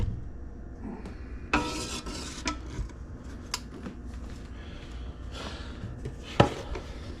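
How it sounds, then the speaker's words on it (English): A lid set onto an electric pressure-cooker pot while making homemade yogurt, giving quiet clattering knocks and scrapes of metal, with a few sharp clicks spread across a near, hushed kitchen. "going to put the lid on it"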